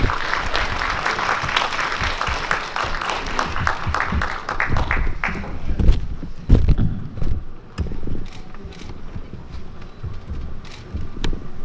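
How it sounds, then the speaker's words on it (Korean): Guests at a Seoul wedding reception applaud, loud dense clapping at first that thins into scattered claps and knocks as it fades out. "이 순간이 빛날 수 있도록 여러분께서 큰 박수로 응원해 주시기 바랍니다."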